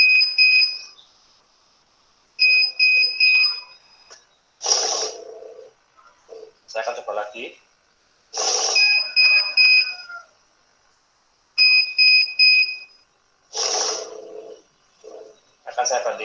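A money counting machine alarm gives repeated bursts of steady two-tone electronic beeping, each lasting about a second, alternating with mechanical whirring and occasional speech.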